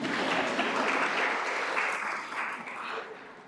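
Audience applause fills a school district governing board meeting at the district office, a steady moderate clapping that holds for a few seconds and then thins out.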